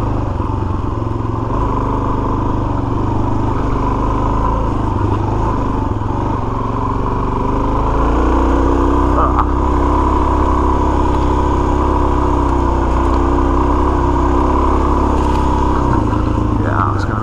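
A Suzuki DRZ400S dual sport motorcycle on stock tires climbs an abandoned-looking road with a steady, loud engine drone that shifts pitch partway through, under constant wind rumble.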